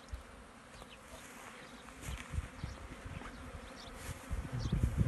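Honey bees buzz in a dense, steady swarm at a spring apiary, the drone swelling louder toward the end with individual bees passing close to the microphone.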